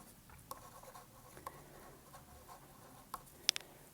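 Handwriting with a pen on paper, quiet close scratching strokes with a few sharper ticks, faint and without talk.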